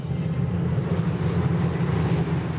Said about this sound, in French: Le plus grand défilé au monde de Spitfires et d'avions de cette époque en état de vol